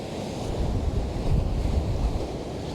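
Gusty wind buffets the microphone beside the sea, making a steady, loud low rumble that swells in gusts, with surf-like wash underneath and no voices.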